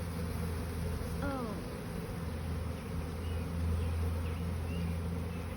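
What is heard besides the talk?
honeybees buzzing while being brushed off a frame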